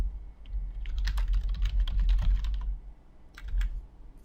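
A computer keyboard typed on in a quick run of clicks while a folder name is entered, close and clear, then a brief pause and a short second burst, with no talk.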